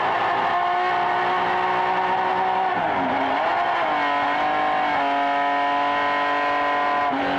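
Vintage race cars, among them a 1970 Datsun 240Z and a BMW, roar down the start-finish straightaway at a racing reunion, a loud sustained engine drone that shifts pitch as the cars pass and change gears.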